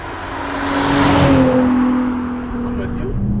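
A modified Infiniti G37 Coupe with low first-through-third gearing revs up, its engine tone climbing and peaking loud before easing off into a steady drone.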